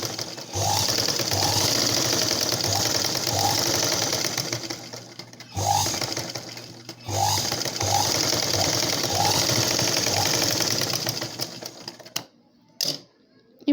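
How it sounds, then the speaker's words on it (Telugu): A sewing machine runs in fast, rhythmic bursts while stitching the neck edge of a blouse, pausing briefly between runs and stopping near the end with a few clicks. "ఇప్పుడు ఎక్స్ట్రా భాగాన్ని పైకి ఈ విధంగా వేసుకొని మనం స్టిచ్చింగ్ చేసుకోవాలి"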